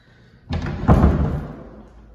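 An apartment unit door in a Nob Hill building swings shut with one loud, close thud, a second heavier impact following a moment later, then a short fading rumble with no voices.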